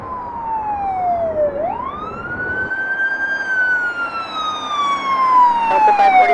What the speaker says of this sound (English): we had a few emergency vehicles pass behind us